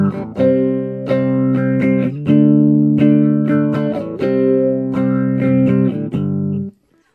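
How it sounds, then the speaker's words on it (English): Guitar played through a phaser effect, loud sustained chords with a sweeping, swirling tone, struck in a steady rhythm and ringing out alone before cutting off at the end. "So that's what phaser does."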